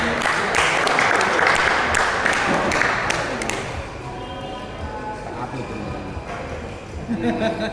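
An audience at an Astra Group meet-and-greet in Surabaya applauds to welcome a speaker, a few seconds of dense clapping that fades out, followed by a voice speaking over room sound.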